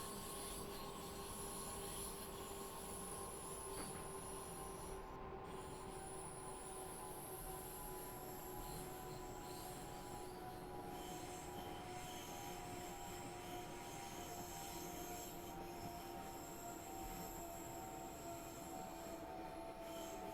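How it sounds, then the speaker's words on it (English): A train on the Mittenwaldbahn brakes toward a stop, its wheels giving a steady, high metallic squeal over a continuous rumbling rail noise, sustained and fairly quiet throughout. "so I'm going to have to apply more brakes in order to get that train to stop"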